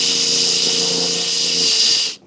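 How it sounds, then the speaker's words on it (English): A power drill whirs steadily at close range, driving self-tapping screws into the inner door skin panel of an MGA during repair, a continuous high whine lasting about two seconds before cutting off abruptly. "So I found the best way to put these self-tapping screws in on the drill."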